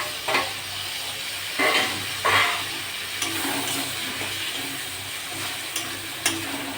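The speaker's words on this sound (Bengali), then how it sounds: "দুটো টমেটো কেটে রেখেছি ওটা দিয়ে দিলাম" Chopped tomatoes added to a sizzling pan of spiced oil for a jackfruit and potato curry, with sizzling, stirring scrapes and a few louder bursts of frying, no voices.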